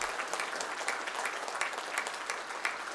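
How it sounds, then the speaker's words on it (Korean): Participants burst into warm, sustained applause after Kim Jong Un and Vladimir Putin sign a treaty and exchange the documents. Many hands clap densely and evenly in a large hall, without talk. "참가자들은 열렬한 축하의 박수를 터쳐 올렸습니다."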